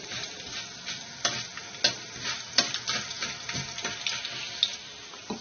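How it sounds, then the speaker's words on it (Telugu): Urad dal and coriander seeds dry-roast in a little oil in a pan, making a soft crackling sizzle broken by repeated scraping stirs and light clicks of the spoon, fairly quiet and close. "ఒక స్పూన్ పొట్టు మినపప్పు వేసుకోవాలి అలాగే ఒక అర స్పూన్ ధనియాలు వేసుకోవాలి వీటిని వేయించుకోవాలి"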